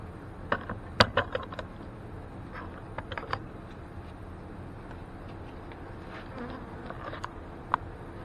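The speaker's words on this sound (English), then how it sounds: "there's an awful lot of bees in here" Honey bees fill an open hive during a spring inspection with a steady, close, low buzzing hum, broken by a few sharp clicks and taps from handling the frames. Nobody speaks.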